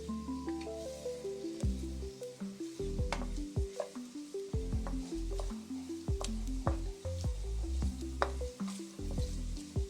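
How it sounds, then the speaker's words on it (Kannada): Coconut tempering for a black chickpea curry sizzles and crackles in a pan, with steady frying hiss and repeated sharp stirring scrapes and pops, close and loud with no talk. "ಈ ತೆಂಗಿನಕಾಯಿನ ಸೇರಿಸ್ಕೊಂಡ್ಬಿಟ್ಟು ಫ್ರೈ ಮಾಡೋದು. ಇದು ಒಗ್ಗರಣೆ."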